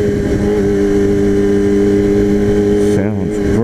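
A motorcycle engine, bought cheap, revs loudly and steadily close up, its airbox under the small fuel tank with intake trumpets, then the pitch dips and swings near the end.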